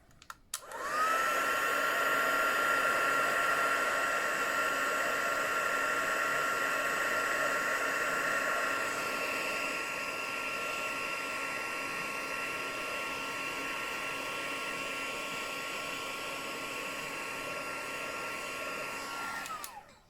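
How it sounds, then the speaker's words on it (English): A heat tool blows steadily for heat embossing on a craft card, a constant whirring fan hiss with a high whine that starts abruptly, runs about twenty seconds and cuts off. "Okay, so our final bit of heat embossing."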